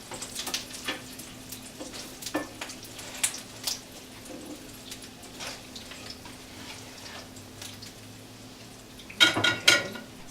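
Salmon patties frying in a covered pan, a low steady sizzle with scattered pops and crackles, plus a burst of clattering lid or spatula noise near the end.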